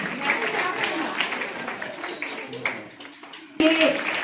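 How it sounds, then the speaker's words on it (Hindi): Applause from students and guests at a school event: a patter of scattered clapping under nearby chatter, thinning out before a sudden louder burst at the very end. "तालियां बजती रहे, तालियां निरंतर बजती रहे।"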